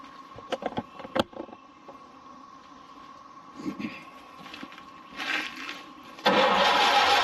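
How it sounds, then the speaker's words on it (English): An old 1930 Ford Model A engine cranks over in short bursts with clunks and a steady hum, then the noise rises sharply near the end. "I'm gonna turn the engine over a little bit"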